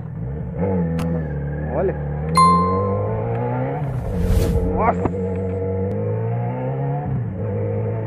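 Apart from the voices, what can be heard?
motorcycle engine revving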